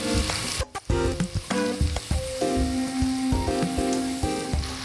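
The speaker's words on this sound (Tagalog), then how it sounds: "yung pagprito natin ng beef, siguro mga 2 minutes or 1 minute lang per side" Steady crackling sizzle of thin beef slices frying in a hot pan for butter beef, close and loud, with occasional clinks and scrapes of a utensil.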